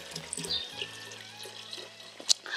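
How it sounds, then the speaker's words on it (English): Water runs and splashes steadily, poured into rabbit urine at a 1:2 ratio to make a plant spray, with a brief louder splash near the end. "So let's add water."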